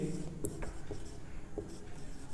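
Chalk or marker writing on a classroom board during a chemistry lesson, a few short scratchy strokes close by with a teacher's voice talking over them.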